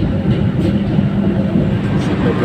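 KAI Kertajaya passenger train running on the line from Jakarta's Senen station, a steady loud low rumble with continuous rolling noise heard from inside the carriage, no talk.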